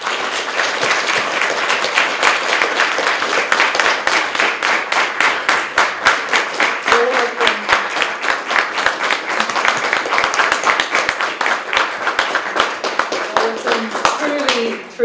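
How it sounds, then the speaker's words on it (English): An audience at a conference session on Tibet applauds its speakers: sustained, loud, dense clapping from many hands, steady for about fifteen seconds before tapering off at the very end. "I'd like to just applaud my fellow speakers"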